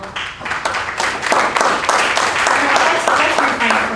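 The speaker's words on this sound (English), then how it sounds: "Let's refrain from clapping." A crowd at a commission meeting breaks into applause, a steady wash of many hands clapping that fills the room for several seconds, with a voice speaking over it.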